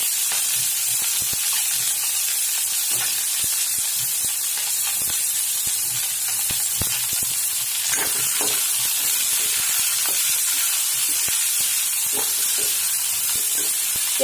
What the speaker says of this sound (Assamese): ইয়াতে মই এতিয়া দিবলৈ যাই আছোঁ পিঁয়াজ।